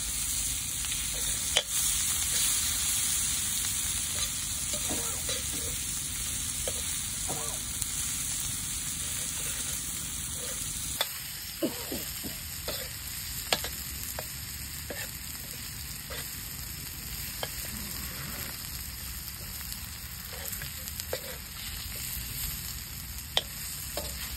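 Catla fish fries in a pan with a steady, close sizzle and hiss, punctuated by scattered clicks and scrapes of stirring, continuous throughout with no talk.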